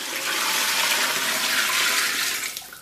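Water pours steadily into a heavy iron pan full of blanched beef ribs and fried seasonings, a broad close rushing splash lasting nearly three seconds before tapering off.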